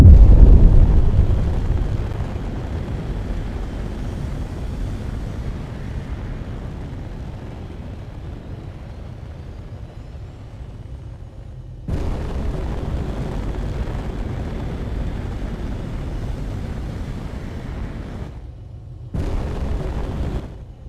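A warship's weapon fires inside the game Space Engineers, setting off a deep, loud booming blast that rumbles and slowly fades, followed by further heavy explosive roars that cut off abruptly.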